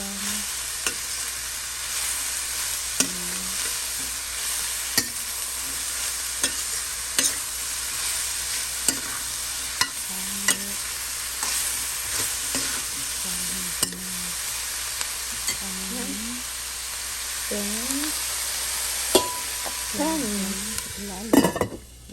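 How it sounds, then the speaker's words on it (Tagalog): Pinapaitan stew sizzling in a pan, a constant quiet frying hiss with occasional clinks and scrapes of a utensil stirring, close by, and faint brief voice murmurs now and then. "Haluin lang natin."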